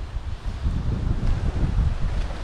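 Wind blowing outdoors beside a backyard pond near a sheltering bank, a steady low rumbling gust buffeting the microphone, with faint rustling throughout and no voices.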